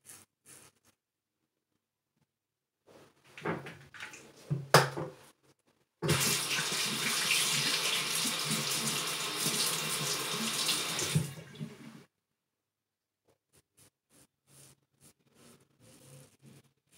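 Water runs from a tap into a basin while preparing for a wet shave with olive oil soap, a steady close rush lasting about six seconds, with brief splashes and handling noises before and after.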